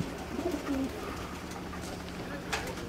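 Racing pigeons of a show pigeon club coo softly in a low, steady murmur, with faint wingbeats and outdoor background noise and no talk over them.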